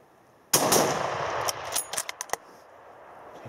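A single loud, close rifle shot rings out during a bull moose hunt, followed by a decaying echo and a few sharp clicks and clatters.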